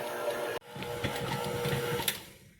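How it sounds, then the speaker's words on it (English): A stand mixer with a dough hook kneads naan dough, a steady whirring motor hum with rhythmic knocking and thumping as the dough turns, continuous and close, with a brief dropout near the start. "when you knead dough in one of these machines, you need about half the time"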